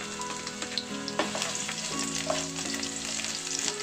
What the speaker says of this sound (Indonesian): yang pertama kita masukkan adalah jahe dan bawang putihnya